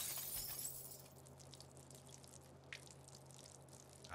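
Glass chemical bottles break on the floor in the South Park video game, an opening crash of shattering glass that fades into faint tinkling and dripping against a low hum.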